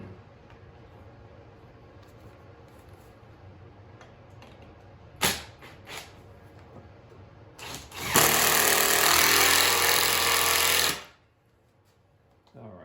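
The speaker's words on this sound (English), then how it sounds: "we should be square enough to put the rest of the screws in" A power screwdriver drives screws into a wooden platform birdfeeder, with a couple of short whirring bursts and then one loud sustained drive of about three seconds, close by, over quiet background.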